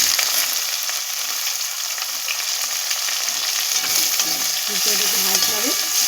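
Chopped onion sizzles in hot oil in a pan while a masala chicken dum is cooked, a dense, steady crackling hiss that runs throughout with no one speaking.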